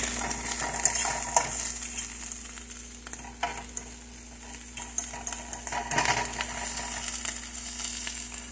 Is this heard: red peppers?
yes